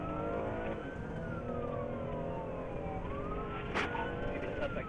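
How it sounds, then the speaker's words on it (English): A police car siren wails with sweeping rising and falling tones over steady engine and road noise from a moving car during a high-speed chase. "A trooper witnessing the erratic driving activated emergency lights and sirens"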